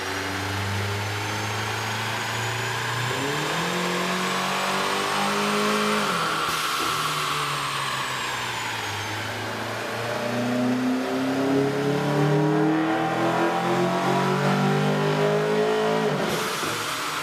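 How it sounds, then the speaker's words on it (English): A car engine fitted with a K&N air intake revs repeatedly on a dyno, its tone climbing and falling through several sustained pulls, loud and continuous throughout. "With the air intake installed, we ran the vehicle on the dyno to test the sound comparison versus the stock intake."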